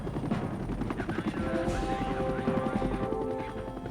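A Medevac helicopter in Vietnam-era wartime, its rotor thudding in a steady fast chop with engine whine, loud and continuous throughout.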